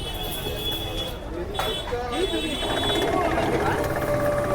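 Sugarcane juice machine crushing cane, a steady loud mechanical grinding and ratcheting with rhythmic clanks, heard close while people talk over it.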